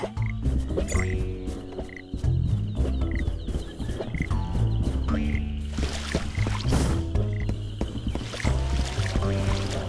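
Frogs croak repeatedly in the video game Ben 10 Power Trip, a run of close, throaty calls layered over busy game effects and background music.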